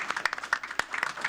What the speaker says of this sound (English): Let's give a round of applause and congratulations.